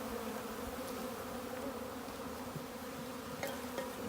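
Honey bees from a newly installed three-pound package hum steadily around the hive, a continuous close buzz with a few louder passes of individual bees, no talking.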